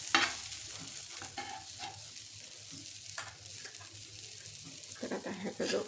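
Masala-stuffed bitter gourd sizzles and fries in a pan while a spoon repeatedly scrapes and stirs it until crisp, with clattering stirring strokes over continuous soft frying crackle.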